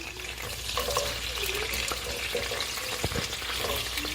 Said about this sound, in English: So the first thing I'll be adding the shrimps into the vegetable oil.